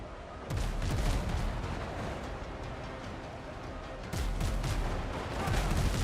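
Pirate ship cannons in a video game boom in heavy, rumbling volleys, with one burst near the start and another about four seconds in over a continuous low roar, and speech faintly mixed in.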